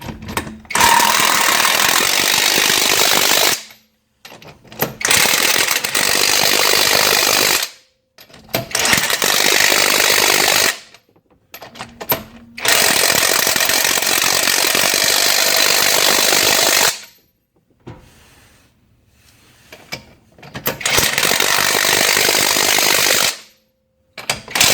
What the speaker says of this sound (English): We're gonna go ahead and start running the lug nuts in on this side here